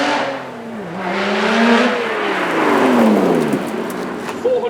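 A supercharged 3.5 litre V6 in a Lotus 430 Cup car roars loudly at a supercar show, its engine note rising and falling through gear changes as it accelerates and passes close by, with a sharp burst near the end.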